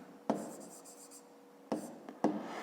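Pen scratching on paper during a fifth-grade maths exercise, with three separate bursts of handwriting strokes separated by quiet pauses, close and fairly soft.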